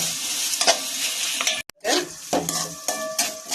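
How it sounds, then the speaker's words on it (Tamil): Tomatoes roasting in a pan with onion and spices, a bright sizzle under repeated scraping stirs and metal spoon clinks against the pan, close and loud, with a brief break in the sound midway. "தக்காளி கொஞ்சம் அப்படியே ரோஸ்ட் ஆகட்டும்"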